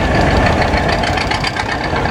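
A John Deere 620 Orchard two-cylinder tractor running close by at a tractor club show, its loud, steady, rough engine chugging without a break.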